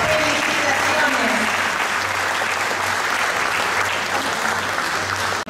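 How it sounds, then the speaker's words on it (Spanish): A graduation audience at a professional anniversary ceremony in Lima applauds graduates with a loud, continuous wash of clapping that holds steady throughout and cuts off abruptly at the end. "Y ahora sí, fuerte el aplauso para ellos."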